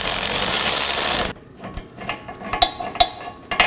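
Ratchet working on 18mm caliper bracket bolts of a Chevrolet Equinox, a noisy burst at first, then a series of sharp metallic clicks in an uneven rhythm, close and clear.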